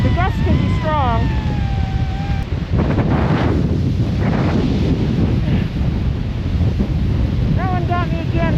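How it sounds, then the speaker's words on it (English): Strong wind gusts roar across the microphone on the Loch Vale Trail, a loud continuous rumbling buffet that swells and eases, with a wavering whistling tone at the start and end. "In general, the wind's not too bad, but the gusts can be strong."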